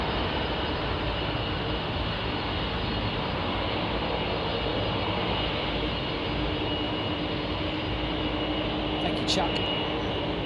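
Jet airliner departing London Heathrow Airport, a steady, loud broadband engine roar filling the whole span, with a brief sharp clatter near the end.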